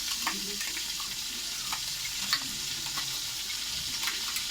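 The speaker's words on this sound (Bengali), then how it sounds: "এই যে আমার নারকেল সর্ষে কাঁচা লঙ্কা পেস্ট করা আছে, আমি এখানে ভালো করে কষাবো।" Coconut, mustard and green chilli paste being stir-fried with pointed gourd, a soft continuous sizzle broken by light scraping and clicking of a spatula in the pan.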